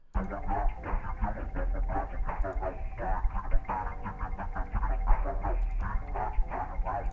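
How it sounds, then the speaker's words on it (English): Vocal chop pitched down an octave at the drop of a phonk beat: deep, murky chopped vocal stutters repeat rhythmically over a heavy booming low end, dense and loud throughout with no clear speech. "I took the vocal chop and I made it unique and pitched it down an octave"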